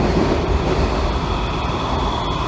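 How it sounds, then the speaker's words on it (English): A Kawasaki 7000-series metro train running underground, its steady loud rumble carrying a high-pitched rail whine and squeal throughout, continuous and close from inside the car with no talking. "Pick up the high-pitched rail noise."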